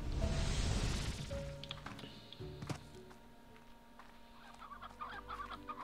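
Briar hen chickens in the video game Slime Rancher, clucking and cackling in short bursts amid farm sounds, moderately loud at first and quieter later.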